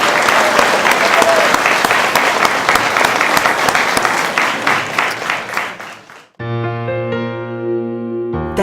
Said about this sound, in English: let's give all of our heroes another round of applause